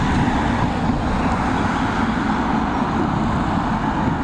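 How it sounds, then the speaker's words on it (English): Steady engine roar of a Ryanair jet taxiing to its gate at Dublin Airport, a constant broadband rumble heard at a distance, alone with no talk. "We're going to pick up this Ryanair as it taxis to its gate."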